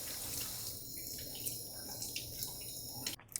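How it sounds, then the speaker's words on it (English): Beets are rinsed under a running kitchen tap, a steady close splash of water that cuts off abruptly near the end. "And then I'll go ahead and rinse them."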